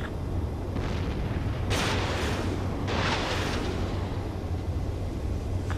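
Video game explosions as a destroyed target blows up during an air strike on a fuel pipeline convoy in Ace Combat 7, heard as loud, rumbling booms over a continuous roar, with two bursts standing out.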